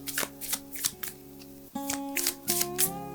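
Tarot cards shuffled by hand in a series of crisp riffling bursts, close and fairly quiet, with sustained tonal music playing underneath throughout.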